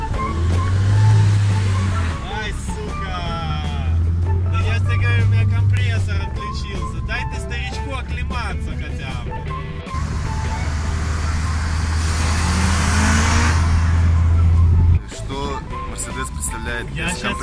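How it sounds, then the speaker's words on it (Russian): A Honda Accord Type S drives with its engine running while it warms up, a steady low engine drone with shifting revs throughout, under ongoing conversation between people inside. "Давай поездим еще, чтобы двигатель прогрелся и компрессор заработал."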